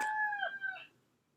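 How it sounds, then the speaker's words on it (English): A single rooster crow, clear and fairly close, with a rising then falling tonal call that fades out into quiet. "It was a rooster."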